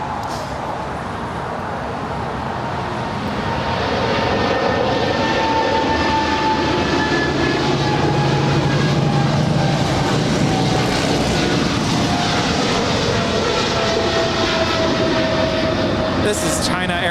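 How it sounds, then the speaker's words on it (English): A China Airlines Cargo Boeing 777 freighter departs from LAX, its jet engines producing a loud, broad, continuous roar that builds and holds throughout at a distance, with faint voices of spectators at the airport. "This is China Airlines Cargo 5107 departing to San Francisco. It's a 777 freighter."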